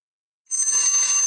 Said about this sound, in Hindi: घंटी बज चुकी है